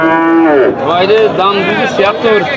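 Cows moo loudly and repeatedly at a busy cattle market, one long low call followed by several shorter, rising bellows close by, with crowd noise underneath.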